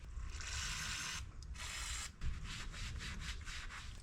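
A rag wipes anti-seize off a front brake part on a Chrysler Pacifica during a pad and rotor job, giving a close, steady rubbing hiss in several strokes with brief pauses between them.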